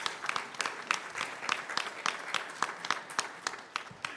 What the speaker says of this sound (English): Let's give him a big round of applause for the work that he's done